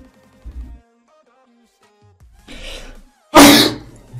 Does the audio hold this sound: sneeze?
yes